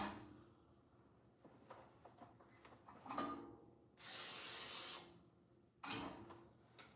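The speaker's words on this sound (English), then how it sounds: "I'm just going to spray this in the pan" A can of cooking spray hisses in one steady burst of about a second into a small pan for egg whites, close and fairly quiet, with soft kitchen clatter before and after.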